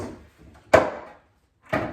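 Two sharp wooden knocks a second apart come from old 1980s cabinet drawers being handled, each a close, hollow thud with a short ring of wood, in an otherwise quiet room.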